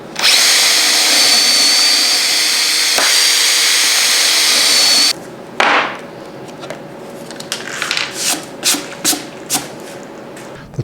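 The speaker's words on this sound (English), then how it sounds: "is drill for the shelf pin holes" Power drill boring shelf pin holes through a jig into shop storage cabinet sides, a loud sustained whine for several seconds, then a run of short separate bursts as each hole is drilled, close up and without talking.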